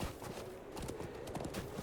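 Horse hooves clip-clop steadily as a mount is ridden in Lord of the Rings Online, a quick rhythmic patter of hoofbeats, close and continuous with a dense background mix.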